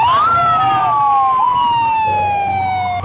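A loud wailing ambulance siren rises and falls in long sweeping tones, close by, with traffic rumble underneath, outside a burned garment factory in Karachi.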